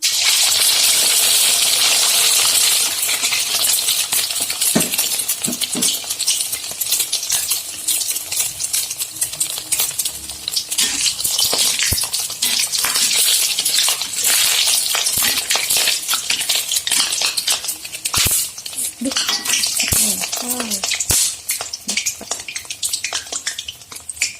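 An egg frying in hot oil in a pan, a loud continuous spitting sizzle up close with scattered sharp pops and crackles throughout, plus occasional scraping knocks of a utensil against the pan.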